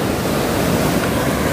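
Big ocean waves surge and crash in a continuous, loud broadband roar, with wind buffeting the microphone throughout and no voices.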